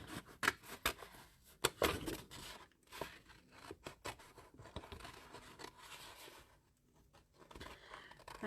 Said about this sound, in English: Get my better scissors.